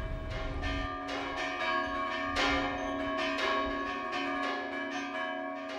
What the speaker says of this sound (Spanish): se hacía el toque anunciando que había aquel día sermón